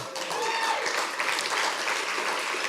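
Steady, dense applause from a civic audience after a mayor announces light rail, a loud continuous wash of many hands clapping with no talk over it.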